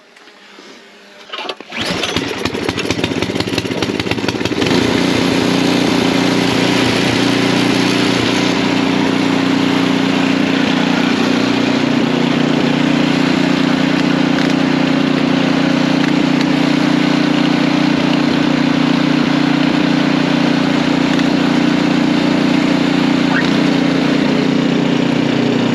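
A gas-powered PowerSmart snowblower engine starts up after a short quiet moment, then runs loud and close at a steady, droning roar until the end.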